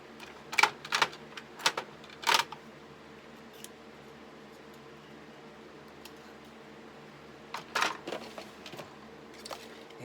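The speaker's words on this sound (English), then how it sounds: "I'm going to cut the wire." Wire cut for a Dollar Tree Halloween wreath, heard as a few sharp, close snips and clicks in a quick cluster, then quiet, then another short cluster.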